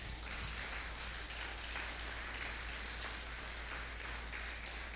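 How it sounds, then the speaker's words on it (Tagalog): A church congregation claps steadily for the Lord during a worship service, a dense, even wash of applause that is fairly faint and continues unbroken. "Bigyan nga natin ng isang malakas na palakpak ang Panginoon."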